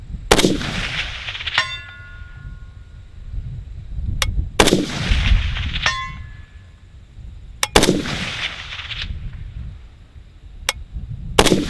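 Three 7.62x39 rifle shots fired outdoors at a 300-yard target, each a loud sharp crack followed by a distant ringing steel-plate impact, spaced a few seconds apart.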